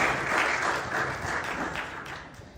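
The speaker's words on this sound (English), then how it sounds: "let me introduce to all of you here with your round of applause" Audience applause welcomes a CTO panelist onto the stage at a Dubai AI debate, a dense, steady wash of clapping that holds for a couple of seconds and eases slightly toward the end.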